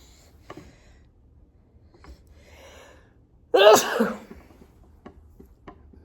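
A single loud, close sneeze bursts out midway through, surrounded by quiet room sounds and a few small clicks.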